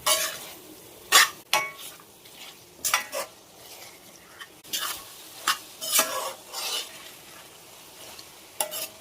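Chicken frying in a pan with masala added, stirred with a utensil in a run of scraping strokes and clinks over a soft, steady sizzle, close and fairly quiet, with no talking.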